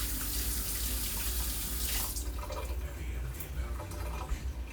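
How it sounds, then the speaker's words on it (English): Kitchen tap running steadily into a sink while hands are washed, a loud close rush of water with splashing shifts as the hands move under the stream, no talk. "And wash my hands."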